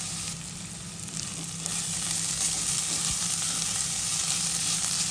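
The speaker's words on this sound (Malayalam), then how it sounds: "ഒന്ന് ഇളക്കിയിട്ടതിന് ശേഷം ഒരു 2 മിനിറ്റും കൂടെ ലോ ഫ്ലെയിമിലിട്ട് കുക്ക് ചെയ്തെടുക്കാം" Watermelon rind thoran sizzling steadily in a pan on a low flame, a soft continuous frying hiss with faint stirring, heard alone without talk.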